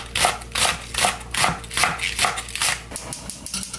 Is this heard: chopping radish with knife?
yes